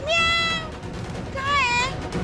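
A cat meows twice in a domestic setting, a rising high-pitched mew followed after a pause by a second, longer wavering meow, fairly close and clear with low background noise.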